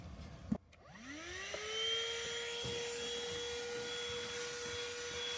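A portable car vacuum with a brush attachment on its hose clicks on and spins up to a steady, loud, high motor whine that holds evenly to the end.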